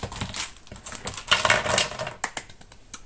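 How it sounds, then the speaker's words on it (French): Light plastic clicks and clacks of felt-tip markers knocking together, irregular and close up, with no talking. "C'est le son du feutre qui s'entrechoque"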